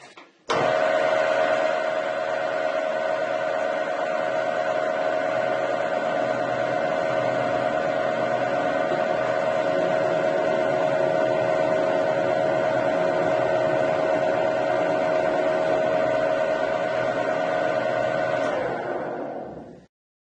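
Harrison M300 lathe cutting a thread, a steady, loud machine whine with a constant tonal hum that runs for about eighteen seconds before winding down and stopping.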